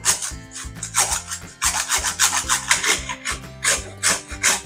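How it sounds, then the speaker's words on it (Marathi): Jaggery being grated by hand for a traditional Maharashtrian patoli filling, a close, steady series of rough rasping strokes in quick rhythm with brief pauses, no talking. "आता आपण हे बाजूला ठेवून गुळ किसून घेऊया।"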